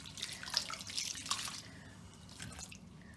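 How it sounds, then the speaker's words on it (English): Water running over a human hair wig to rinse out conditioner, a soft splashing trickle with brief dripping bursts that fades lower toward the end, faint and without speech. "It's important to rinse all the conditioner off."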